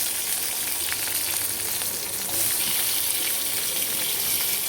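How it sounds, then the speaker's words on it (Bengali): Potatoes frying in hot oil with cumin seeds and asafoetida give a steady, loud sizzle with a dense crackling hiss, constant throughout and slightly swelling near the end. "এখন তেলের ভেতরে একটুখানি জিরে ফোড়ন দিলাম, আর একটুখানি হিং দিয়েছি, দিয়ে এখন আলুগুলো ছেড়ে দেবো"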